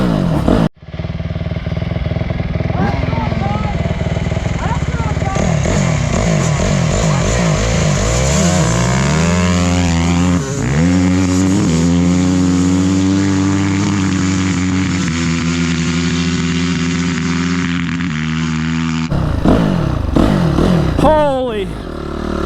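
A Honda dirt bike engine, either a stock CR125R two-stroke or a CRF250R four-stroke, roars loudly and continuously while being ridden, climbing and dropping through the gears and running a little funny in fourth or fifth before backing off near the end.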